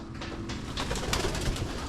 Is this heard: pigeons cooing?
yes